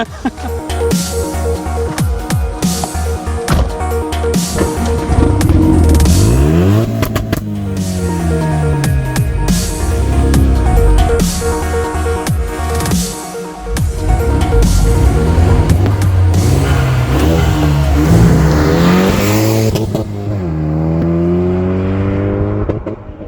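A Renault Megane RS hot hatch driving hard, its engine revving up through the gears with repeated rising pulls and brief shift dips, loud and close throughout, with no talk.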